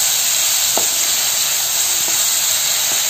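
Loud, steady hissing sizzle as tomatoes go into a pan of browned cumin for jeera fried rice, continuous and close with a few faint clicks, no voices.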